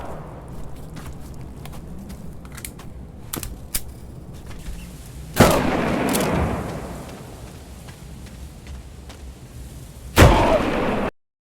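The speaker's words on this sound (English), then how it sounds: "I love the sounds they added for the Glock." Two loud, sharp Glock pistol shots in the VR shooter Blood Trail, each with a lingering ringing tail, ring out several seconds apart over a low game background dotted with faint clicks and footsteps.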